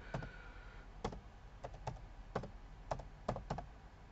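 Typing on a computer keyboard while entering a math term into a graphing tool: sparse, separate key clicks in an irregular rhythm, fairly close but quiet, with no talking over them.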